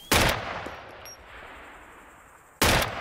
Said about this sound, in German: Wurde gerade geschossen.